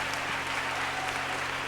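Audience at a political honor ceremony applauding students after being urged to stand; steady, dense clapping fills the whole stretch at moderate loudness, with no talk over it.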